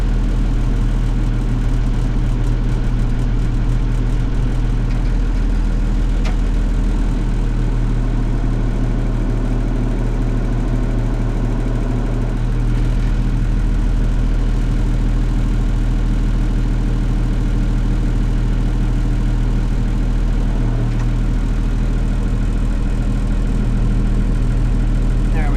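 Vintage tractor engine idling steadily with a Dowdeswell DP5S plough attached, a continuous low mechanical drone with faint hydraulic spool activity, heard close throughout.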